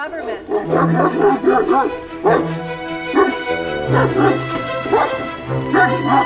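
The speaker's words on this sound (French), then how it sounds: "Le berger d'Anatolie est un chien redoutable, originaire des hauts plateaux de Turquie" An Anatolian shepherd, a large guardian dog from the Turkish highlands, barks loudly and repeatedly in close, deep bursts, with a voice running over the barking.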